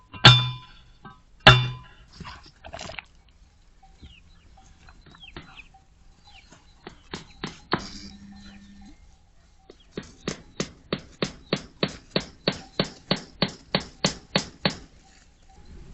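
Hammer blows on a fence post at a Portuguese farm: two sharp hits, scattered knocks and a brief rasp, then a steady run of about a dozen quick ringing strikes, close and moderately loud without speech.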